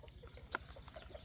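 Speckled chicken clucking in short, soft, separate calls with one sharper squawk midway, fairly close over a low rumbling background.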